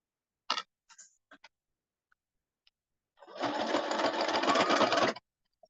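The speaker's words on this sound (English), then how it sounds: "we're gonna sew here" Sewing machine stitching through thick layers of a bomber jacket, a close, steady whirring run of about two seconds after a few scattered clicks and taps.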